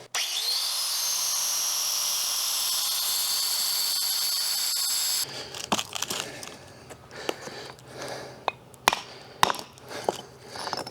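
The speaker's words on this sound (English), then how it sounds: "Got an angle grinder with a masonry blade, trickle of water. We're gonna cut this." An angle grinder with a masonry blade cutting stone under a trickle of water, a loud steady high-pitched whine for about five seconds, then scattered knocks and scraping as the cut stops.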